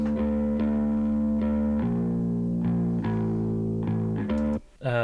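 Two layered bass tracks pushed through a guitar amp simulator with EQ and compression, giving a gritty, distorted tone; a series of plucked, sustained notes play steadily, close and up front, before a brief drop at the end.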